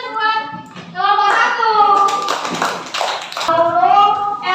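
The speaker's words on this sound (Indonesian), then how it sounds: "Tepuk tangan buat kelompok" A class of schoolchildren applauds together in a classroom, a dense burst of clapping that swells over several seconds, with children's and an adult's voices talking before and after.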